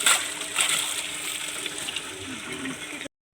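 Water rushes steadily from a newly drilled village borewell, a continuous broadband gush that stays loud and even for about three seconds before cutting off abruptly.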